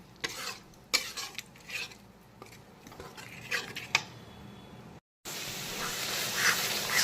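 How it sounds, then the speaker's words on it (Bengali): Yogurt being stirred and fried with spices in a pan, with intermittent scraping and clinking of a spoon against the pan for about five seconds, then a brief gap followed by a steady, louder sizzle. "এখন দইটাকেও ভালো করে সমস্ত মশলার সঙ্গে কিছুক্ষণ কষিয়ে নেব।"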